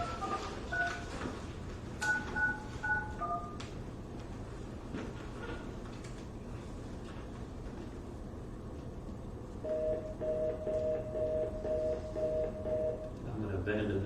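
Touch-tone telephone dialing during a city council meeting: a quick run of keypad beeps early on, then a longer evenly spaced series later, over a steady background hum with talk in the room.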